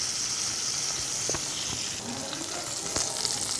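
Oil heating in a wok with a pinch of turmeric powder, giving a steady close sizzling hiss with a few soft clicks of the pan, no voices.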